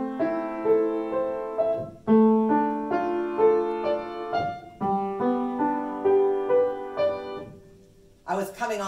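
Solo piano plays a little prelude with broken-chord patterns, the sustain pedal released too soon so brief gaps sound between note groups; clear and close, ending in a short noisy sound.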